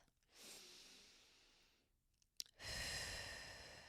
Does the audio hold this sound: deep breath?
yes